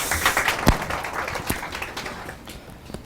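Scattered, uneven audience applause at a Korean exam-prep information session, a thin smattering of claps with a few louder individual claps standing out, fairly close and dying away toward the end.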